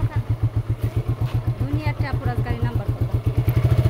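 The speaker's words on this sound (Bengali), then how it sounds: "আসলে বাইক স্টার্ট করতেছি" A motorcycle engine starting and idling at a home parking spot, a fast, steady, close putter of pulses that grows slightly louder, with a person talking over it.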